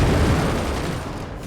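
Weapons firing in the strategy video game Forts, with cannons among them, a dense, loud rumble of overlapping blasts that fades slightly over a second and a half.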